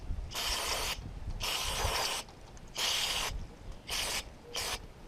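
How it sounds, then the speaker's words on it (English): Bursts of pressurized spray hiss in on-off pulses onto a part of a 1969 Buick Special Deluxe with fuel issues, each a second or so long, close up and steady, with short pauses between. "I'm just getting the outside of it kind of sprayed off here."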